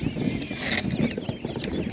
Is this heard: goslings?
yes